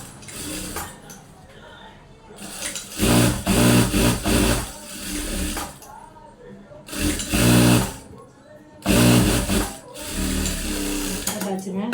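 A sewing machine stitches a blouse in three loud, rattling bursts of whirring needle strokes, separated by pauses where someone talks.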